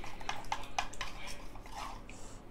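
Custard powder is stirred into cold milk with a spoon in a bowl, producing a run of light clinks and scraping taps against the sides, fairly close and steady, with no talking.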